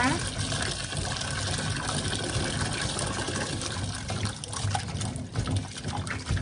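Tap water gushes steadily and loudly into a container to rinse mangoes, a dense continuous splashing stream filling the whole stretch.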